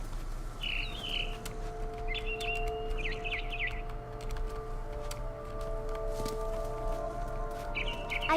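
A barn swallow in What Remains of Edith Finch gives several short chirping bursts, spaced apart over a low ambient game hum with steady tonal drones underneath.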